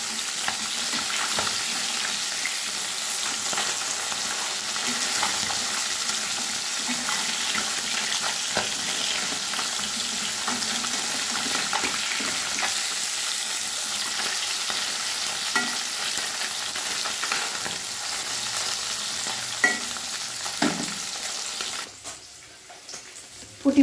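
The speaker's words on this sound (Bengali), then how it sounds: "মাছগুলো আমি উল্টিয়ে দেব অপর পিঠ ভাজার জন্য।" Puti fish fry in a pan after being turned, a continuous soft sizzle and crackle at close range with occasional clinks before it fades near the end.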